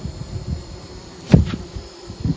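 A low, steady buzz of honey bees at the hive hums throughout, with a brief louder swell of buzzing near the middle, like bees crowding close by.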